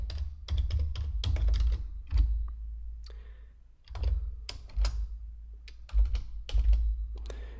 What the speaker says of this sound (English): Now I can also just type in the date and time as well.